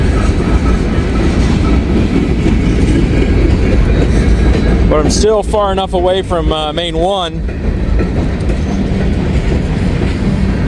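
A short freight train led by a single locomotive rumbles past with steady wheel noise throughout, its horn sounding in several warbling blasts midway, while someone talks briefly nearby.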